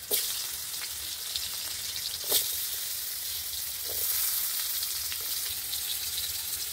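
Potatoes and carrots sizzle in hot oil with panch phoron and bay leaves, a dense, steady crackling fry close up with occasional sharper pops and light stirring.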